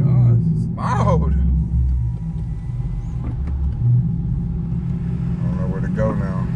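Loud low rumble of a Chrysler 300S with a 392 engine idling and running close by, steady throughout, with people talking over it.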